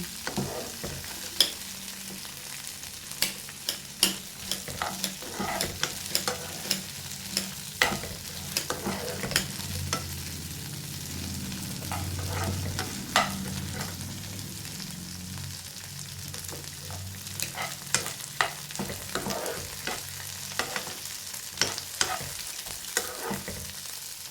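Spiced masala and onion frying in a pan for mushroom pulao: a steady low sizzle runs throughout, broken by frequent sharp scrapes and clinks of a stirring spoon, close and fairly loud, with no talking.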